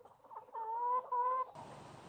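A turkey calls in a backyard farm flock where a male is strutting, giving a sustained, nasal, tonal call lasting about a second, followed by a brief burst of rough noise.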